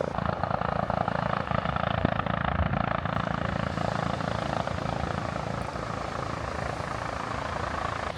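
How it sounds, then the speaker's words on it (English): A helicopter passes overhead, its steady rotor thump and engine roar holding loud and constant throughout. "Big helicopter coming over as well there."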